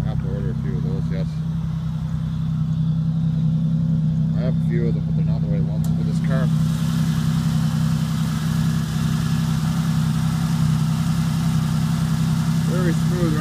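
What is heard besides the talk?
Oldsmobile Cutlass Ciera engine idling, loud with holed muffler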